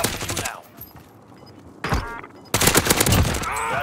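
Video game gunfire in a duos battle-royale match: bursts of rapid automatic shots crack out, then a lull, then heavy sustained firing returns near and loud, with faint voices underneath.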